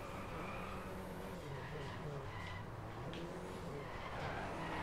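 A hot hatch brakes hard and skids in DriveClub on PS4, tyres squealing over the engine's drone in a steady racing soundscape, with a voice talking faintly over it.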